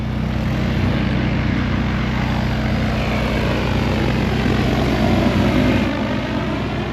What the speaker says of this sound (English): Josh has found another big drone.